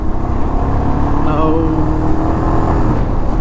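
Royal Enfield Himalayan motorcycle cruising at speed with worn cone set bearings, a steady loud engine drone mixed with wind rush, with a rider's voice talking over it.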